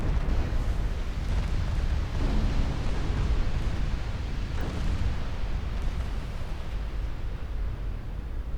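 Seven-inch battleship guns boom in a naval battle in Ultimate Admiral Dreadnoughts, heavy rolling blasts merging into a continuous roar of distant fire and explosions with no voices.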